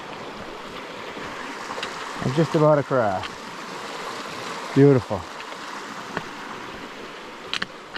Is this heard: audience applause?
no